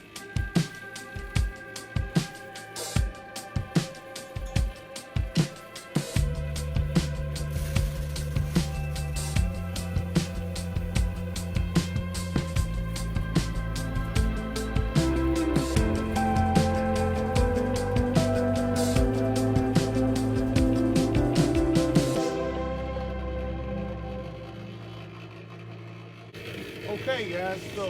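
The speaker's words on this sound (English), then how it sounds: "so sorry about the noise of the mixer in the background." A cement mixer used for mixing chicken feed on a farm rumbles and drones steadily in the background, joined by a deeper mechanical hum partway through, while someone talks over it; the noise drops off near the end.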